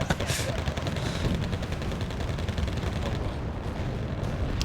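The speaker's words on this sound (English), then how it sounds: "the enemy has mortars as well" Enemy mortar and weapons fire in the video game Wargame Red Dragon, a dense continuous roar of shelling and gunfire filling the whole stretch, loud and unbroken without clear individual impacts.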